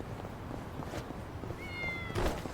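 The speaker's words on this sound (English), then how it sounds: "Meow." A cat meows in the video game Yakuza: Like a Dragon, a thin drawn-out call followed by a brief sharper one, faint over a busy game background.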